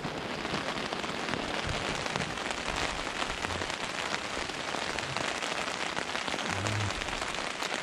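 Heavy rain pours steadily onto a woodland camp, a dense, continuous hiss of drops drumming on nearby surfaces with no voices, loud and unbroken throughout.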